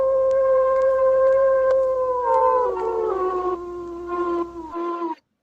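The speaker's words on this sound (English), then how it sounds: "Give me the howl." A wolf howl sound effect rises in long, sustained tonal wails that bend in pitch and layer over one another, loud and close, then cuts off abruptly after a few seconds.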